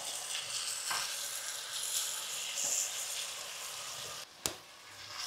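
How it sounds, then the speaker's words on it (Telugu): Marinated mushrooms added to a hot pan with fried onions and cashews for a mushroom dum biryani, giving a steady close sizzle with soft stirring and one sharp clatter near the end. "కాజు ఫ్రైడ్ ఆనియన్స్ మొత్తం ఈ విధంగా కలిపేసుకొని మనం మ్యారినేట్ చేసుకున్న మష్రూమ్ వేసేసుకుందాం"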